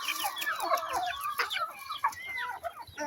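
A chicken clucks close by in a rapid, irregular run of short calls that continue throughout, with no talking.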